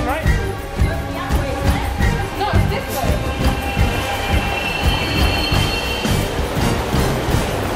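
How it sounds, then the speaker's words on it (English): A train rolls past in Paris with a dense rumble, rhythmic wheel clatter and some metallic squeal, loud and continuous throughout, with people talking over it. "Wait, it's the train, right?"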